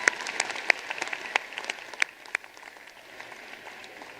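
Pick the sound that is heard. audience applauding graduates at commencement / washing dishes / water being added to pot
audience applauding graduates at commencement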